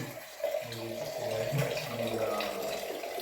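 A household tap runs with a steady, splashing stream of water, heard up close while people talk over it.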